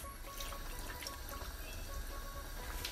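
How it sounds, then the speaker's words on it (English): Water being poured into a pot of red peas soup, a steady close splashing and trickling pour running continuously without pause, with no talking. "Now I'm gonna add about a cup more of water to this."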